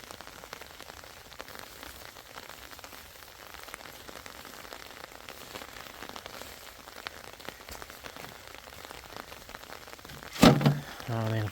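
Heavy stormy rain pours steadily during a volcanic orange harvest, a dense constant hiss of drops striking surfaces, with a brief louder thump near the end.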